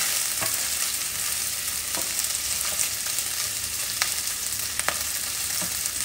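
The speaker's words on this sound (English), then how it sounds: "And I do stir my meats a lot, only because I want to get them nice and evenly brown and coated." Chicken browning in a pan for Thai green curry, with a steady, close sizzle and occasional sharp scrapes and clicks as the pieces are stirred. No one speaks.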